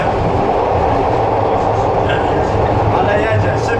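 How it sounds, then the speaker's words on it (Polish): Subway metro train riding through a city tunnel, a loud steady rumble and rattle of the carriage filling the whole clip, with people talking over it. "Jesteśmy teraz w tak zwanym Subwayu w Metrze."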